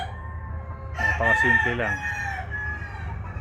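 A rooster crows once at moderate distance over a steady low background, with hens clucking around it on a farm where chickens are bred; a voice speaks briefly over the crow.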